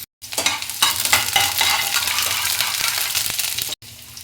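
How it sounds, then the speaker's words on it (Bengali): White cumin seeds and chopped garlic hit hot mustard oil with a sudden, loud, crackling sizzle. It stays steady and close for a few seconds, then cuts off, with no voices. "প্রথমে একটু সাদা জিরে ফোড়ন দিচ্ছি"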